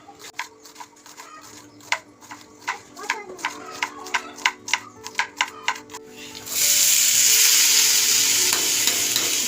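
Chopped bitter gourd upperi cooking in a pan, a run of sharp rhythmic spatula taps and scrapes over a low sizzle, then a sudden loud, steady hiss for the last few seconds, close and without talk.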